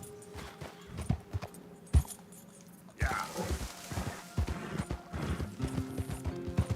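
Horse hooves clip-clopping in Red Dead Redemption 2, steady walking hoofbeats with a soft jangle of tack, growing louder and busier partway through, with a brief whinny-like sound.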